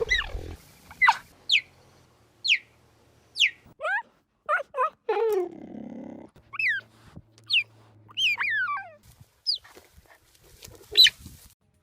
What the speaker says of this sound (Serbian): gepard pravi neobičan zvuk. On cvrkuće baš kao ptičica.